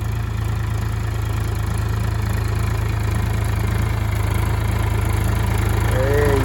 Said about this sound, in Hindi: मांगे लाल ट्रैक्टर चलाते मांगे